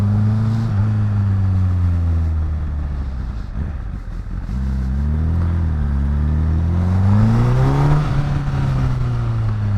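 A 2010 Honda Fireblade CBR 1000cc motorcycle engine under way, loud and close, its note rising and falling as the throttle is worked, dipping briefly mid-ride before climbing again in pitch.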